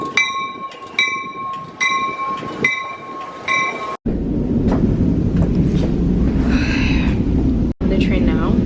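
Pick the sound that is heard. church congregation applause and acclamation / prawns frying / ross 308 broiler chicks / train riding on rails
train riding on rails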